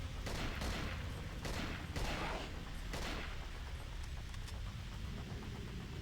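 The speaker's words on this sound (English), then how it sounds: "You see when the AK went full auto there for a moment?" An AK rifle fires fully automatic in the video game Cold Fear, with dense, loud bursts of shots that overlap into a rolling roar, blended with a constant rumbling background.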